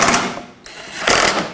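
A ratchet clicks rapidly while tightening the main bumper mounting bolts on a 2001-2007 Volvo V70, two close, loud bursts of dense mechanical clicking separated by a short lull.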